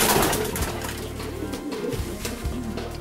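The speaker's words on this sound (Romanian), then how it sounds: "Așa, porumbei." Pigeons at a breeding loft give soft, low repeated coos, several overlapping calls close by across a few seconds.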